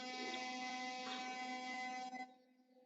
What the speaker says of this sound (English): I'm gonna stop the toothbrush so you can hear me